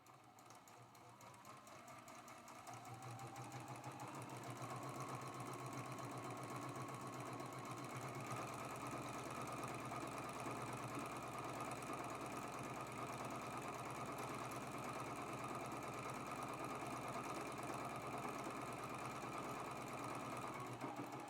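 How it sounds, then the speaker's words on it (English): Quilt strips are sewn with a 1/4-inch seam on a sewing machine that ramps up and then runs continuously at a steady, loud, close mechanical hum and rapid needle clatter, with no talking. "Let's go ahead and sew this strip together with a 1/4 inch seam allowance."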